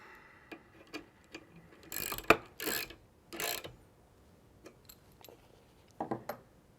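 A T30 driver tightens a pivot knuckle screw on a Trektop soft top frame for a 2-door Bronco, giving several short, quiet ratcheting clicks and scrapes in bursts, with a few louder rasping turns in the middle.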